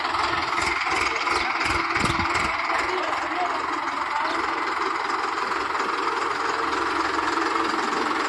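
A power tractor idles and labours with a steady, close engine rumble while backing a trolley into a farm shed. Brief bursts of voices come in near the start.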